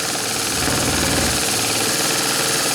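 A Stuart D10 double-ten live steam pump runs loud and close in a steady mechanical chug, with dense broadband hiss and a continuous low thrum from start to finish.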